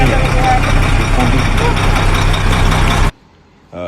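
A heavy truck engine idles close by, a steady low rumble that cuts off abruptly near the end.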